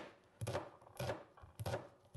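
A knife slices onion, chili and garlic into thin pieces on a cutting board for an Indian chicken curry, giving three soft, evenly spaced chopping bursts that are quiet and close.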